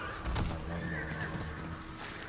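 A horse neighs in the Diablo 4 video game, a moderately loud whinny at the start, followed by a steady game ambience with faint hoof-like clopping underneath.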